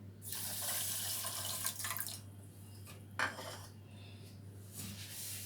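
Half a cup of water poured from a cup onto sugar in a pan for syrup, a steady close splashing run with brief clinks of vessels and a steady hum underneath.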